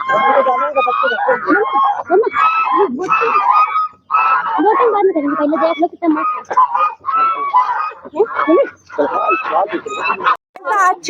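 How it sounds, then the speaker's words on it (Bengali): Geese or ducks honk and cackle in repeated bursts by a lake near Nainital, loud and close, with people talking over the calls. "সামনে কতগুলো হাঁস দেখতে পেয়েছি,"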